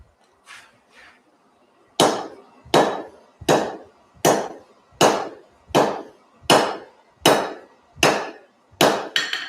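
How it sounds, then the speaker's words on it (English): Steady hammer blows shaping a piece of lawnmower blade into a carpenter's chisel with a handmade hammer: about a dozen sharp, ringing metal strikes in an even rhythm, loud and close, after a couple of lighter taps. "lawnmower blade to make a carpenter's chisel with my new hammer that I made"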